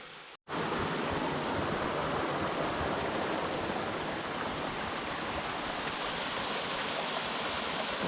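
Big Spring Falls on Wolf Creek rushes as a steady, dense roar of falling water, loud and unbroken after a brief silent gap at the start.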